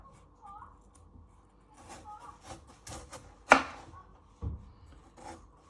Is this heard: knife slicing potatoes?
yes